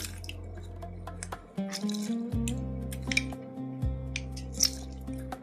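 Half a lemon is squeezed by hand into simmering Pollachi-style mutton biryani made with seeraga samba rice, giving soft squishes and scattered drips close by over a steady low cooking hum.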